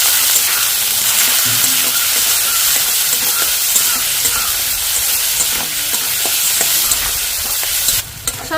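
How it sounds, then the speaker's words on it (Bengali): Salted vegetables fry loudly in a pan, a dense sizzle with frequent scraping stirs and clinks, close and continuous with no voices. "স্বাদ মতো লবণ সব কিছু দিয়ে ভালো করে ভেজে নেব সব"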